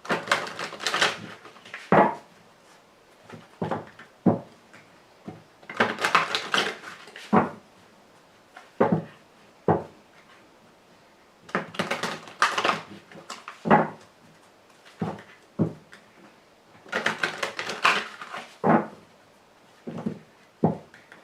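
A Lenormand card deck is shuffled and cut in repeated bursts of crisp riffling and slapping card noise, separated by short pauses, close-up and moderately loud with no talk.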